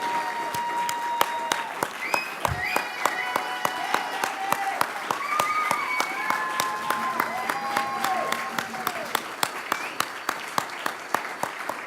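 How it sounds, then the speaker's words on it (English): Sustained, loud applause from a live audience for the finalists of a University of Baltimore business pitch competition, dense clapping running throughout with voices and cheering mixed in. "would you guys like to give the finalists one more round of applause to their faces?"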